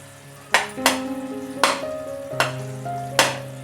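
Jaggery being stirred in a pan with white sesame seeds and crushed peanuts, a close, steady sizzle broken by several sharp scraping stirs of the spoon at regular intervals, with no voices.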